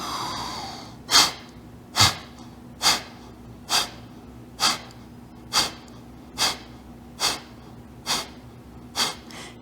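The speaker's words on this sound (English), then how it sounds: "10 rounds, breath of fire." Breath of fire yoga breathing during a core class, about ten sharp, rhythmic nasal exhalations evenly spaced roughly a second apart, close and clear, with no talking.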